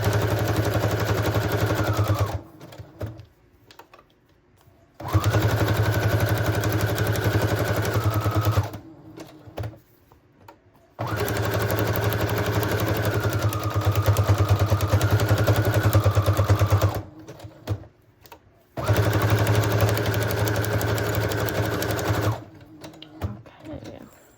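A sewing machine stitches around the edges of a stack of junk journal papers in four long runs of steady, rapid whirring, each separated by a brief pause, loud and close.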